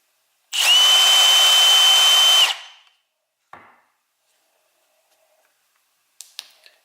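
A Milwaukee M12 FUEL 3/8" stubby impact wrench runs in a loud, steady two-second whir that winds down, followed by a single short click and a couple of faint taps, with no speech.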